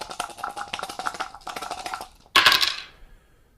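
Several defense dice for the HeroQuest board game clatter and rattle in a quick shaken run, then hit a tabletop in one sharp, loud close burst that rings off and fades, with no talking.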